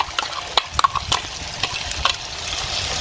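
Ginger, garlic, green chilli and tomato paste goes into a hot pan and is stirred, giving a steady close sizzle with a few sharp spoon-against-pan knocks.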